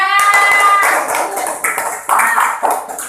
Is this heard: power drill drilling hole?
no